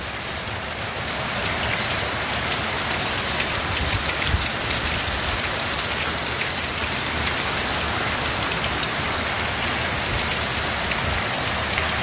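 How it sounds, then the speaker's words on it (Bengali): Heavy rain pouring down steadily and without a break outdoors near a covered vehicle, a dense loud hiss of drops on surfaces that swells in after the first second and holds constant throughout. "প্রচণ্ড পরিমাণে বৃষ্টি, বৃষ্টির কোনো থামাথামি নাই।"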